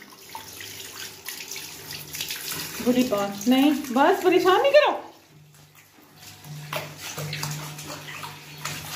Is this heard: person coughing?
no